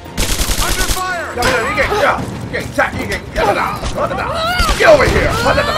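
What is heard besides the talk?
gunfire in Rise of the Tomb Raider video game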